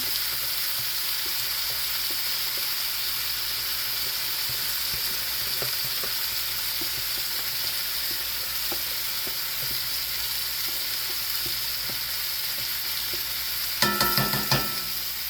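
Peppers, onions and tomatoes with seasonings sizzle steadily in a pot for a pot roast dinner, a constant, moderately loud hiss with faint ticks and a brief burst of clattering stirring near the end; no one speaks.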